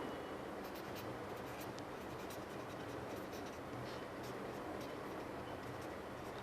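A pen scratches steadily across paper as notes are written by hand, a continuous close scraping texture with faint rhythmic strokes over constant background noise.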